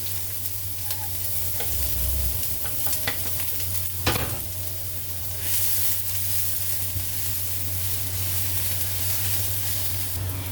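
Garlic sautéing in cooking oil for pansit, a steady close sizzle with occasional stirring scrapes and clicks of the utensil against the pan.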